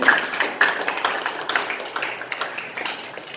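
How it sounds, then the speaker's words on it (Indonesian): Students applauding in a classroom, a short burst of scattered, fairly faint claps at an uneven rhythm that thins out over a few seconds. "tepuk tangan dulu"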